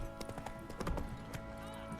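Roach the horse gallops in The Witcher 3, quick rhythmic hoofbeats clip-clopping steadily at close range over a busy game soundscape with background voices.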